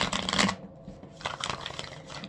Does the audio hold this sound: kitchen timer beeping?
no